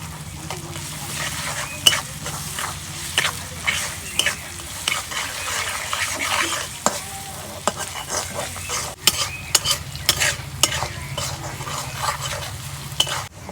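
Turmeric, cumin and green chili sizzle and fry in a clay pot while a spoon stirs and scrapes them, sharp clacks and scrapes repeating over a steady frying hiss.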